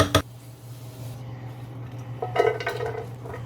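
A cooking pot is swapped and handled while making vegetable fried rice, opening with a sharp metal clank, then quieter scrapes and knocks of pots and utensils close by against a low kitchen hum.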